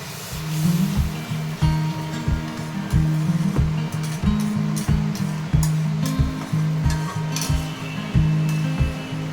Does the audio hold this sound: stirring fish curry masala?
yes